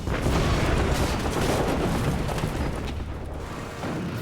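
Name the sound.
explosion of torpedo hitting battleship Bismarck's hull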